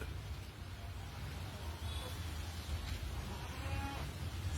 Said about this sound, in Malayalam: പെരുങ്കുഴി അമ്പുവിന്റെ വീട്ടിൽ ഒരു അത്ഭുത ആട്